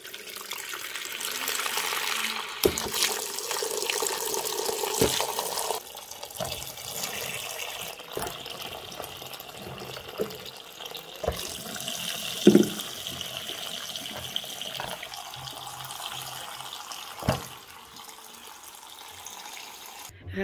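Tap water runs steadily into a kitchen sink while zucchini are washed and rubbed one by one, with occasional soft knocks and splashes rising from the continuous close stream.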